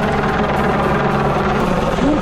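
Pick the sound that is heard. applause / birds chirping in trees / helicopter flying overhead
helicopter flying overhead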